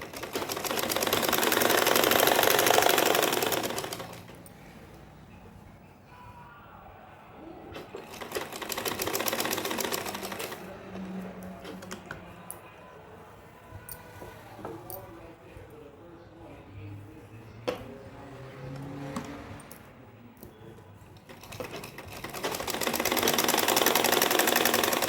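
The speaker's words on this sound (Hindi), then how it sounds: "तो देखिए गले के चारों तरफ हमने सिलाई लगा ली है बुकरम से बाहर बाहर" A sewing machine stitches around the buckram neckline of a floral Anarkali gown in three loud bursts of rapid whirring, separated by quieter gaps with handling noises and a person talking.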